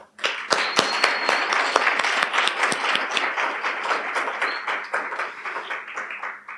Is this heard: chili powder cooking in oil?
no